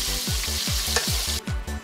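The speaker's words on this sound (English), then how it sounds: "Tossing the sausage in the gravy." Italian sausage tossed into a pot of simmering tomato gravy, giving a steady low bubbling and sizzle with repeated rhythmic plops, close and fairly loud, no talking.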